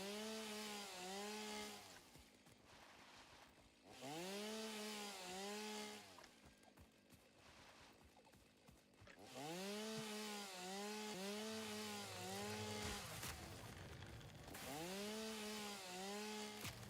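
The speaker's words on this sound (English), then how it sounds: "I have a chainsaw." Chainsaw cutting wood, its engine rising and falling in repeated loud revving bursts with short pauses between them, close and alone.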